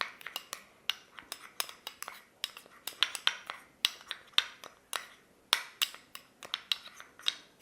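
A face pack being mixed with curd in a bowl, a spoon clinking and scraping in quick regular strokes, about two per second, close and crisp with no talk.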